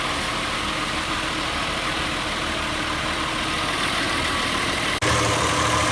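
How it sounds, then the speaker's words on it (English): VW MK4 Jetta engine idling steadily while an engine flush additive runs before an oil change, a constant close rumble with a brief dropout near the end. "Now we wait."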